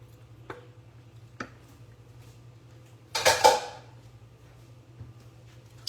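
Shrimp stirred into a pan of pasta sauce: a few light utensil taps against the pan, then a short burst of scraping and clattering, close and otherwise quiet.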